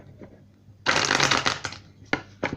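Oracle cards for a tarot reading riffle-shuffled in one close, crisp burst, followed by a few sharp snaps as cards are laid down.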